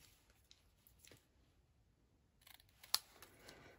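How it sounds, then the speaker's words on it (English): Scissors make a few quiet, scattered snips while cutting paper to size for a cocktail-themed box, heard in an otherwise hushed room. "I'm going to cut them to size."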